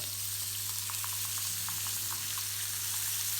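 Butter sizzles in a pan of seared scallops that has just come off the heat, giving a steady, bright frying hiss dotted with small crackles and pops. No voices.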